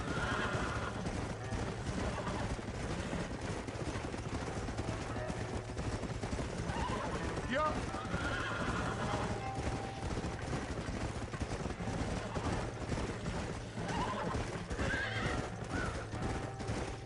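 Horses in the Red Dead Redemption video game neigh and whinny while hooves clip-clop in a steady rhythm under a constant wind-like background, with a loud whinny standing out midway.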